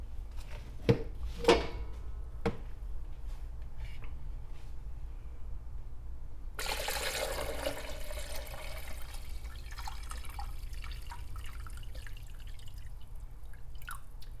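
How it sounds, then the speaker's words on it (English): Water pours steadily into the water tank of a DeLonghi COM532M coffee machine after a few sharp drips, a continuous splashing fill that runs on quietly to the end. "I'm going to fill the rest of the tank up with fresh water."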